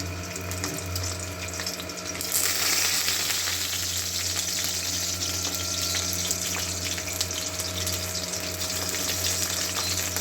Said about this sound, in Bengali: মাঝারি আছে ভাজছি, নাহলে আবার পুড়ে যেতে পারে